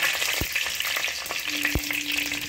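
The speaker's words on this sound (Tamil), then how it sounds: "ஆயில் ஆட் பண்ணிக்கோங்க. கடுகு, 2 பச்சை மிளகாய்," Mustard seeds and two green chillies fry in hot oil in a kadai, giving a dense, continuous crackling sizzle with a few sharp pops and a brief tone near the end, close up, no voices.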